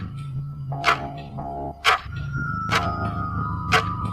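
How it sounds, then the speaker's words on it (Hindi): A clock ticks steadily in a quiet house late at night, sharp clicks roughly once a second over a low background hum, close and moderately loud. "घड़ी की आवाज़।"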